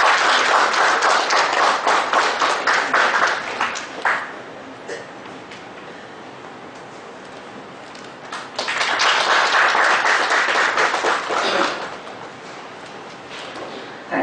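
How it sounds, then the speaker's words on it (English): A seminar audience applauds to welcome a speaker, with two loud bursts of many hands clapping separated by a quiet lull, the second swelling and then fading out. "Please welcome with the great round of applause."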